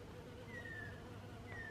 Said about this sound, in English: Oh, the bees are happy today.